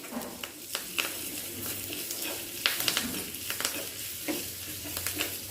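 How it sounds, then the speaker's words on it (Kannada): Mustard seeds fry in oil with a soft, continuous sizzle, punctuated by light scraping stirs and occasional small clicks and pops, fairly quiet and close. "ಸಾಸಿವೆ ಸ್ವಲ್ಪ ಫ್ರೈ ಆಗಲಿಕ್ಕೂ ಒಂದು ಸ್ವಲ್ಪ ಹಿಂಗೆ ಹಾಕ್ತೀನಿ"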